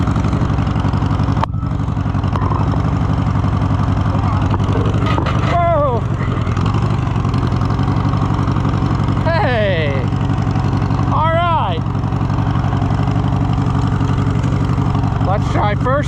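A neglected Allis-Chalmers C tractor engine runs with a steady, loud, low chugging idle throughout, as people talk over it.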